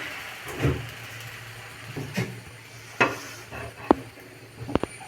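Dosa batter poured and spread on a hot stone griddle for masala dosa gives a soft steady sizzle, with several scraping strokes and light clinks of the ladle against the pan.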